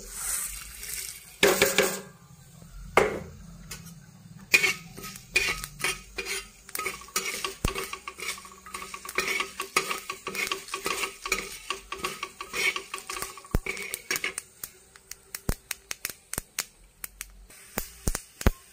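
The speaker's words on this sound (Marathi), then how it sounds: "असं त्याच तव्यामध्ये हे आपण धने, तीळ, खडा मसाला हे भाजून घेऊ।" Coriander seeds, sesame seeds and whole spices rattling and scraping as they dry-roast on a hot griddle, with steady stirring clatter and faint crackle, close and fairly quiet, no voices.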